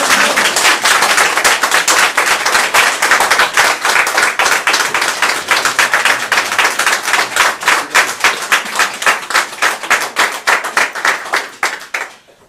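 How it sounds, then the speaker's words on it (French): Sustained, dense applause from a crowd, clapping loudly and steadily before fading out at the end. "Applaudissements."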